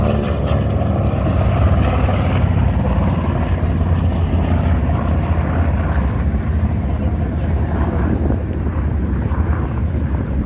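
A Grumman TBM Avenger torpedo bomber flies past at an airshow, its propeller engine a loud continuous roar that holds steady and close throughout.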